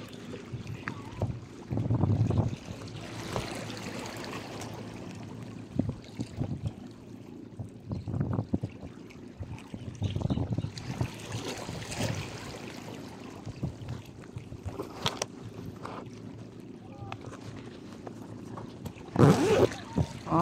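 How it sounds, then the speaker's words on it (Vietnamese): Sea waves wash against a rock embankment on the beach at Can Gio, Vietnam, swelling and receding as irregular rushing surges amid steady wind noise, with occasional sharper splashes. "biển nè, biển Cần Giờ"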